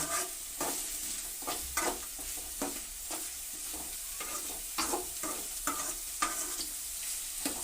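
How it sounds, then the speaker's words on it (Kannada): Onions frying with salt in a pan, a steady sizzle cut by repeated rhythmic scrapes of a spatula stirring roughly every half second, close and clear, with no speech. "ಈರುಳ್ಳಿ ಕೆಂಪಗಾಗಬೇಕು ಉಪ್ಪಿನ ಪುಡಿನ ಈರುಳ್ಳಿ ಜೊತೆಗೆ ಹಾಕ್ಬಿಡ್ತೀನಿ"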